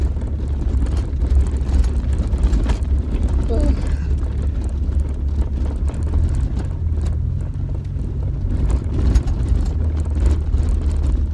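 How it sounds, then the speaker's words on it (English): A struggling car drives over sand in an Arctic setting, its engine a steady low rumble throughout with wind buffeting the microphone and faint mechanical rattles. "Driving on sand."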